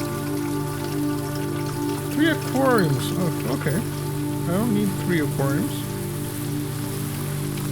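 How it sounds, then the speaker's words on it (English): Rain falls in the video game Blue Prince as a steady, soft patter throughout, with someone talking over it in bursts. "When it is raining"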